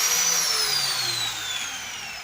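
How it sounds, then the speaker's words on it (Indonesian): Electric angle grinder switched on and running unloaded, a loud steady high-pitched whine that slowly drops in pitch as it spins, close and alone. "Kita hubungkan jack steker dari gerinda ini ke stop kontak. Kemudian kita nyalakan gerindanya."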